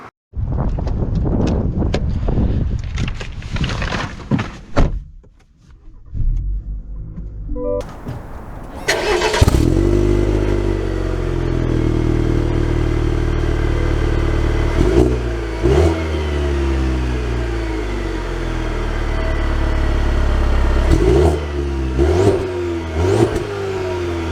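A 2023 Cadillac V-series sports sedan, CT4-V or CT5-V, fires up with a loud starter crank and roar, then idles with a deep steady rumble broken by several sharp throttle blips, close and alone.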